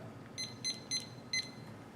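A deep-fryer timer sounds four short, high electronic beeps in an uneven rhythm, fairly faint against quiet background hiss.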